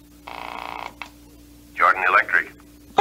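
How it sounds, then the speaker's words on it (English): A telephone is dialed in an old radio drama, a short buzzy tone burst followed by a click, then a voice comes in over the line. "I'm going to call Mr. Jordan"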